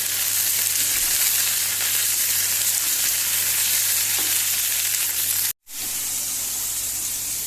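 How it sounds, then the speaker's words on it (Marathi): Green chillies and tomatoes frying with onion in a pan for a Goan-style chicken heart dish, a steady loud sizzle running throughout, broken by one very brief dropout near the end before the hiss resumes. "आमी भितर हिरव्यो मिरच्यो आनी टोमॅटो घालुया आनी मातशें फ्राय करुया"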